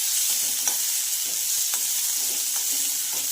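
Onion sizzles in hot oil in a pan with garlic while cooking a spiced chickpea dish, a continuous loud frying hiss broken by soft, regular scrapes of stirring, with no voices.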